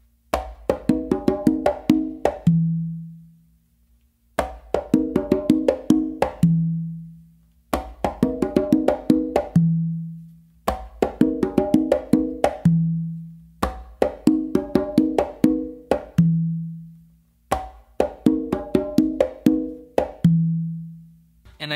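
Conga drums play the full tumbao pattern, six steady cycles of rapid slaps and muted strokes each ending in a deep, ringing open tone, loud and close with brief gaps between cycles.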